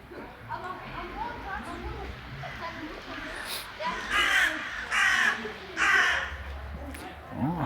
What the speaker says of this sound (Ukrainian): ворони кричать